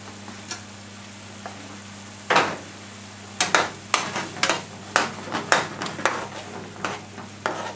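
Lamb sizzles in a pan with tomatoes for lamb karahi, a soft background fizz broken by repeated scraping and stirring clatters of a utensil against the pan, quiet and close.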